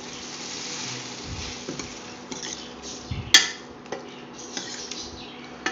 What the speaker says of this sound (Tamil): முட்டையை சேர்த்துட்டு மசாலாவோட நல்லா கலந்து விட்டுடலாம்.